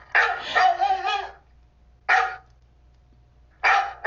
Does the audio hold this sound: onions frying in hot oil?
no